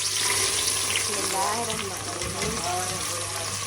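Green chillies and onion dropped into hot ghee, giving a loud, steady frying hiss that stays constant throughout, with a voice talking faintly over it.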